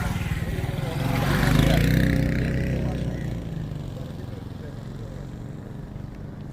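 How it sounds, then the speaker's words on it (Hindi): A motorcycle passes close by among goats being shown for sale, its engine swelling loud then fading under steady nearby talk. "बाइक जाने देगी।"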